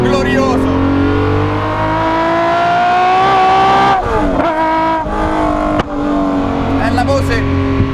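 A Ferrari F50 road car revs hard close by, its clean, high engine note rising and falling through several sharp blips, with a voice narrating over the sound.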